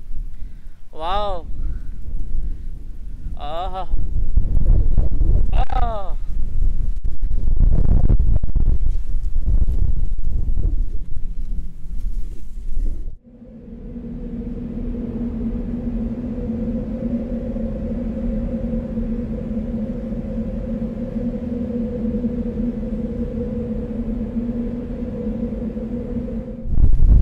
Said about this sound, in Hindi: मिट्टी के साथ बारिश भी आ गई भाई, बारिश बरस रही है